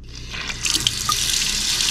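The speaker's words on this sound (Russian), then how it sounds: "Во всяком случае, как-то льется вода." Water starts flowing from a faucet after its clogged aerator has been cleaned, a soft gurgling onset that swells into a steady splashing stream into the sink.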